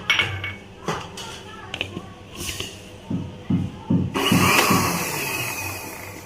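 A kitchen grinder grinds sugar for a mango dessert with a loud, continuous whirring roar that starts partway through, after some bumps and handling knocks up close.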